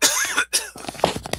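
A single person coughing close to the microphone, with a harsh burst followed by a second shorter cough and some throat clearing, heard alone without speech.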